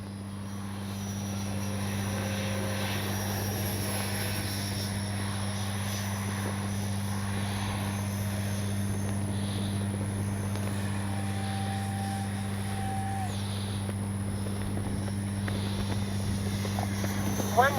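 An Arrows 50mm Viper radio-controlled jet plane gives a continuous, steady whine and drone that builds slightly in loudness toward the end, with a brief louder burst at the very finish.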